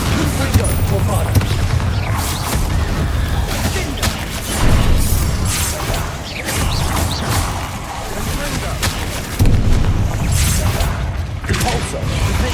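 Spell blasts from Confringo and Bombarda go off in the Hogwarts Legacy video game, a busy run of loud booms and crackling bursts in uneven clusters, with a voice speaking among the impacts.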